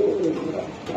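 Budapest and Spanish pouter pigeons coo close by in a short, soft, low burble.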